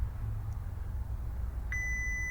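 A single steady electronic tone from a multimeter continuity test on a Chevrolet Tahoe transmission connector pin starts near the end, clear and sustained over a quiet background hum.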